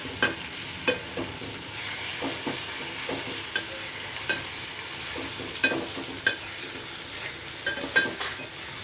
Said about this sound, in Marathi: आता याला पण चांगल्यापणे परतून घेऊया.